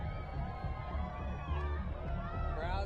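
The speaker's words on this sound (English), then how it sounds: "Crowd's getting excited." Excited crowd gathered outdoors for a total solar eclipse, a steady dense murmur of many voices with rising whoops and calls as totality arrives, continuous and close all around.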